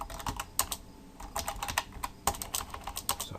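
Rapid clattering keystrokes on a computer keyboard, close and fairly loud, in quick irregular bursts with no voices.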